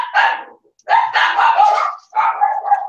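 A dog barks in three bursts close by, the barks loud and clear with short gaps between them, heard in a room where a Christmas ornament kit is being put together.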